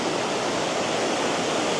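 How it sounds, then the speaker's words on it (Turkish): A waterfall in Cambodia, running a little low in the dry season, roars in a steady, dense broadband rush that stays even and close throughout, with no voices over it. "Ama yine de güzel bir şelale ya."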